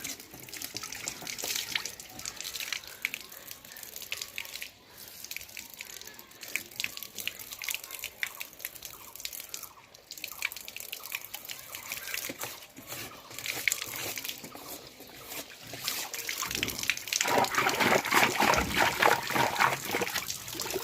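Water splashes, trickles and drips during cleaning in a steady, uneven patter that grows louder and busier near the end, with no clear talking.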